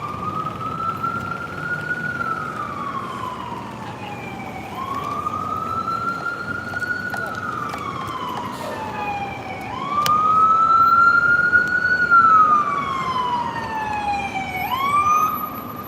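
A wailing ambulance siren rises and falls in slow, repeating sweeps along a Manhattan street, loud and fairly near over steady traffic rumble, growing stronger toward the end, with no talking.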